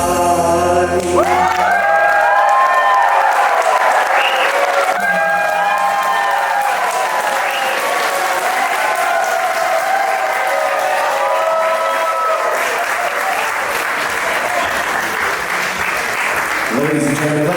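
Audience applause and cheering at a mehndi and welcome party after a song performance, a loud sustained wave of clapping from a large crowd with some voices mixed in, holding steady throughout.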